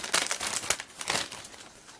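Crinkly plastic bag holding bluish gray molded parts of a 1958 Chevrolet Impala AMT Ertl 1:25 scale model kit, sealed since 1990, being cut open; a close, dense stretch of rustling and crackling with no talk.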